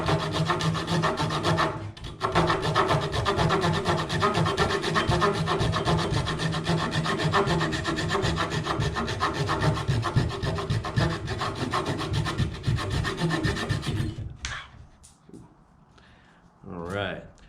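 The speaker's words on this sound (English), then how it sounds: "I need a sharper saw." Hand saw cutting through wood with fast, rhythmic rasping strokes that run loud and steady for about fourteen seconds before stopping, leaving quiet handling noise.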